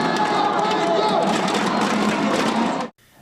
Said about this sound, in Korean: 경기 시작 휘슬이 울리자 관중들의 뜨거운 함성 소리가 체육관을 가득 메웁니다.